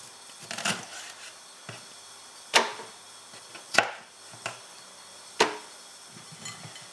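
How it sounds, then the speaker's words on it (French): Knife coarsely chopping carrots on a board: a few sharp, close chops at irregular intervals with quiet gaps between. "On va aussi découper nos carottes grossièrement."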